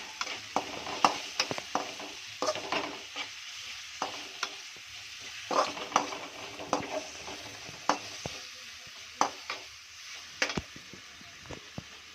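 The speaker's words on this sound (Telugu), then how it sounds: "ఇలా బాగా కలపాలి." A spoon stirs fried onion, chilli and ginger-garlic paste in a pan for semiya upma, giving irregular scraping knocks and soft clicks over a faint oil sizzle, close and moderately quiet.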